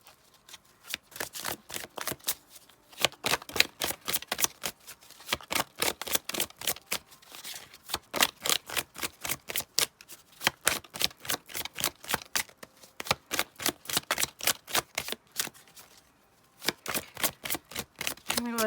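Tarot cards are shuffled steadily in quick riffling bursts, crisp and close, repeating in rapid rhythmic runs with brief pauses throughout.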